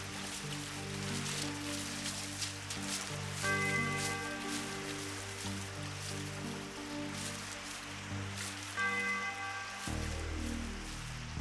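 Steady rain falls throughout, blended with a continuous musical drone and tones, no voices.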